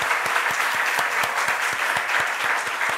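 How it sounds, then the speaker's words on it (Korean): A church congregation applauds warmly at a Sunday service, with dense, steady clapping holding at an even loud level and a regular rhythmic pulse running through it. "우리 뜨거운 박수 환호로 우리 아이들 격려하고"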